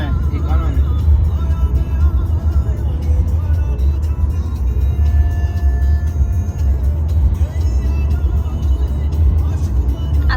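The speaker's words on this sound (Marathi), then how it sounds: "सो गाईज तुम्हाला आता मी राजचं ड्रायव्हिंग दाखवणार आहे." Interior rumble of a car driven on a road, a steady low engine and road drone throughout while people talk over it.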